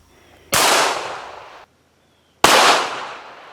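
Two loud, sharp rifle shots about two seconds apart strike recycled milk jug plates, each crack trailing off in a long fading roar, with no voices.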